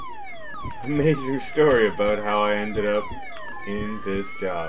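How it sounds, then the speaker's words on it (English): Alarm set off in the video game Monaco: a wailing siren-like tone with rising and falling sweeps and pulsing harmonic bands, sounding continuously and fairly loud, with someone briefly talking over it. "That dulcet sound of the sound of the alarm I set off"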